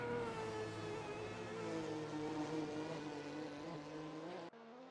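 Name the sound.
Group C race cars passing in a sim racing game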